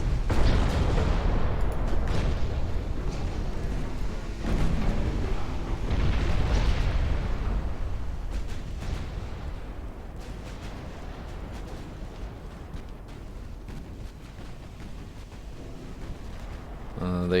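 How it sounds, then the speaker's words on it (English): A warship's magazine detonating in a naval video game battle set in a British 1900 campaign, a long rolling series of deep explosions and rumbling booms that are loud at first, then fade into a sustained low roar. "once one magazine goes, and the whole ship starts exploding, it just spreads"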